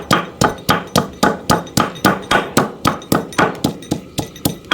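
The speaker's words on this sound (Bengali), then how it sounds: "আমি আদা সরিষাটা একটু বেটে নেব" Ginger and mustard seeds pounded into a paste, a steady run of about fifteen sharp, evenly spaced thuds, loud and close, with nothing else behind them.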